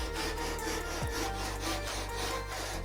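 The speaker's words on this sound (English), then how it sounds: "you just kind of take your saw and you kind of just shave it off" A hand saw shaving thin bits off a wooden workpiece, a close, quiet rasping scrape that runs continuously with no talk.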